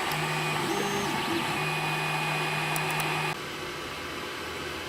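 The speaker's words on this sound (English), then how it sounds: "So it was happily printing away" An Ender 3 Pro 3D printer at work, with a steady whirring fan hum and stepper motor whines rising and falling in short tonal runs, then a quieter steady hum near the end.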